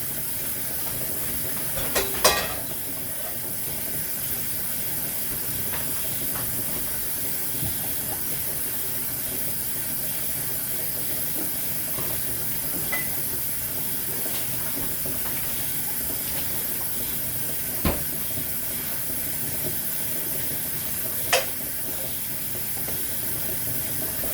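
Chopped vegetables sizzle in melted butter in a skillet while a Philly cheesesteak baked potato is made, a steady, loud hiss with occasional sharp pops and crackles throughout.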